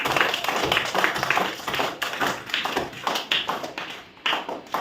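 A group of people clap together in a steady burst of rapid, overlapping hand claps that continues throughout, fairly loud and close.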